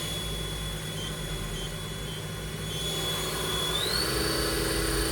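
A 2010 Southwestern Industries Trak LPM CNC vertical machining center spindle runs at 3,000 RPM, giving a steady whine with a thin high tone over constant broadband machine noise.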